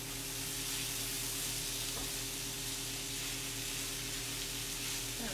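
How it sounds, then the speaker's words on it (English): Corn sizzling steadily in a hot pan while being stirred, a constant close frying hiss with a faint scrape of the utensil, no talking. "Let me stir the corn before I add the arugula"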